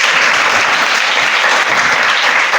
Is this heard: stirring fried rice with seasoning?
no